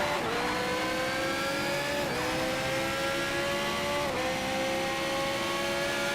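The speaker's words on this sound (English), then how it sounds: "here there is the Pagani Huayra" Pagani Huayra engine in the racing game Need for Speed Shift 2: Unleashed, a loud steady drone climbing in pitch through the gears, with two clear shift dips, and no voices over it.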